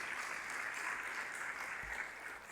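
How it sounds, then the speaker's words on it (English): An audience claps steadily after the finale of a stage performance at a Rang Manch Visharad recital. The dense, even applause carries on throughout, moderately distant, with no voices over it. "think that deserves another round of applause."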